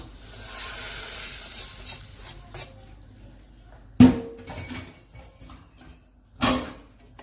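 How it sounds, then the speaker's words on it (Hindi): Roasted vermicelli tipped into milk in a metal pot while making sheer khurma, with soft stirring and scraping followed by two sharp clanks of utensil against pot. "अब मैं सेवइयों को दूध में डाल देती हूँ।"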